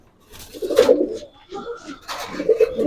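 High flyer pigeons coo at a pigeon farm, two clear rounds of throaty, rolling calls up close, separated by a short pause, with soft murmuring between them.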